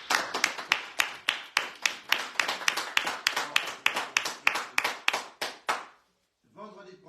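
A small group on a live radio show claps rhythmically in an even, spaced beat that stops abruptly, followed by a brief moment of sound after the silence.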